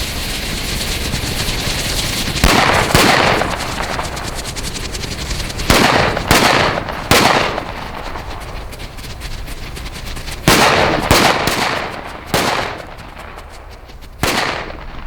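Flash Banger firecrackers go off in a series of sharp, loud bangs, some singly and some in quick pairs, spaced unevenly over a constant hiss of background noise, with no voices.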